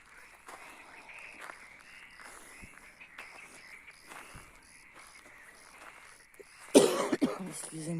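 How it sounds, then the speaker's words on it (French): In a cemetery, a single loud, harsh cough bursts out near the end, following a stretch of quiet room noise with faint shuffling. "Excusez-moi si je tousse."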